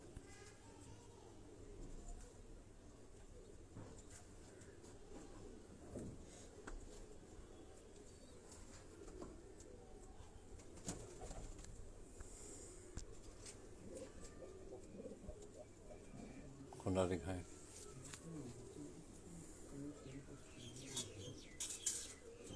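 Pet pigeons coo softly at a loft in Hazara, their low murmurs rising and falling over faint background noise with occasional wing flutters, while someone talks briefly.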